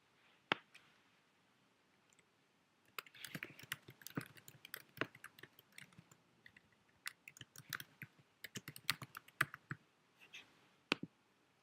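Computer keyboard typing while entering a slide title, with quiet bursts of key clicks in irregular runs, a few isolated clicks at first, then denser typing with sharp louder taps, close and without talk.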